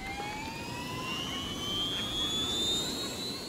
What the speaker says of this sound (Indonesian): Helikopter terbang ke dalam kamar dan melakukan pencarian dari atas.